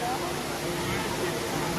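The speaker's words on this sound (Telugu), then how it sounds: "అందులో మళ్ళీ న్యాచురల్ వాటర్ ఫాల్" Natural waterfall pouring down a rock formation at the Kapilatheertham temple, a steady, dense rushing wash of water that continues without a break, with faint murmuring voices mixed into the background.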